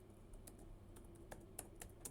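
Rapid, light keystrokes clatter on a computer keyboard, a steady run of soft clicks at close range and fairly low level.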